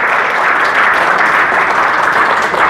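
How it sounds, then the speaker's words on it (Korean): At the opening ceremony of an art fair in a hotel in Songdo, Incheon, a room full of guests applauds, producing a loud, dense, steady wash of clapping. "우리 모두를 환영하는 뜨거운 박수 부탁드립니다"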